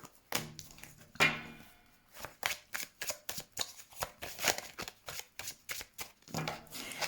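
Tarot cards being shuffled by hand before a reading: a run of quick papery riffles and slaps in uneven bursts, close and fairly quiet, with no voices.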